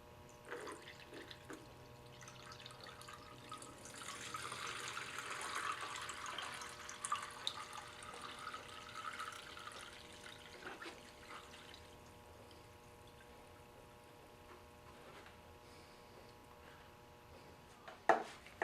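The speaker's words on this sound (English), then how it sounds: "I'm going to drain my battery acid into that." Liquid from a car battery drains through a shirt used as a filter into a bucket, a faint continuous trickle and pour that swells, then eases into a softer dribble, with a small clatter near the end.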